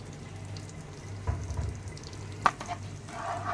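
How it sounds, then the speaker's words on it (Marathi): Butter melting with a spoonful of oil in a pan for chicken pav bhaji, giving a faint steady sizzle with a couple of brief utensil clinks. "आता हे बटर मेल्ट होत आलं आहे."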